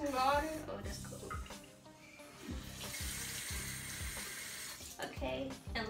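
A tap runs water into a sink at close range, a steady splashing hiss for several seconds with a few brief interruptions, while a person speaks quietly over it.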